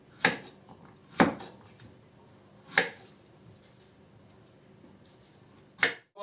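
Knife chopping squash (kabak) on a cutting board in a home kitchen, four sharp, well-spaced chops ringing out close and clear over a quiet background.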